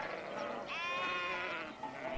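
A single wavering sheep bleat on a Patagonian ranch, fairly close, heard over a windy outdoor background.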